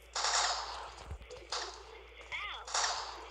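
Rapid bursts of gunfire in the Block Strike shooting video game, three loud sustained volleys separated by brief pauses, with faint voices in between.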